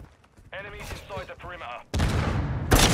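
Gunfire in Call of Duty Modern Warfare 2 during online multiplayer, with heavy bursts of shots dense and loud in the last second, following stretches of talk and game noise.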